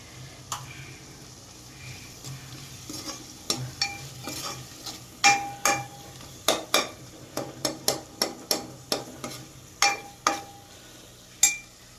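Eggplant bharta spiced with garam masala is stirred in a hot pan, giving a soft sizzle under a run of about twenty sharp spoon-on-pan taps and scrapes in an uneven rhythm, close up with no talking.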